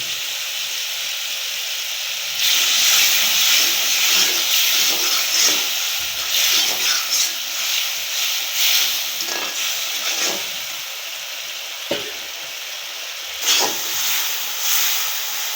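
Spice paste for a pangas fish curry sizzles and hisses steadily in hot oil, a continuous frying crackle with brief louder bursts and no talking.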